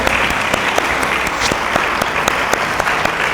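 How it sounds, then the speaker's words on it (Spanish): A crowd at an educational talk breaks into loud, sustained applause to welcome a teacher, dense steady clapping filling the room with no pauses. "la maestra Tere Villavicencio, quien les pido que recibamos con un aplauso"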